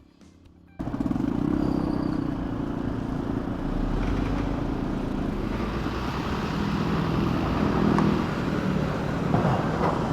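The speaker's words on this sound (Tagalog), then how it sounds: "Napakadami ng mga sasakyan dumadaan dito." Heavy traffic streams along a busy road on Daang Hari Road in Imus, Cavite, a dense, loud, continuous roar of many cars and motorcycles passing close by after a brief quiet start, with no talking.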